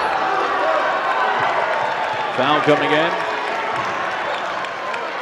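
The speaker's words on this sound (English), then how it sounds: "Hear the crowd in the background." Basketball arena crowd at a Northwest Missouri State versus Washburn college game cheers and claps continuously, a loud steady roar with a brief announcer voice cutting through midway.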